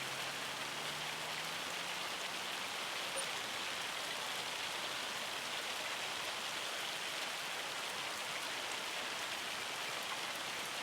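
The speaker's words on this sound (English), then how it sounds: "Sounds like it's hailing." Hail comes down on a farm in Ray County, Missouri, in Farming Simulator 25, a constant dense pattering hiss that holds at an even level throughout with no speech.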